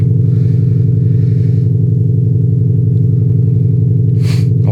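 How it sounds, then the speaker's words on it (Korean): A Ford Mustang coupe's exhaust set to its loudest mode rumbles at a steady, deep idle throughout, close and loud, with a brief clatter near the end. "여섯 번째가 제일 큽니다"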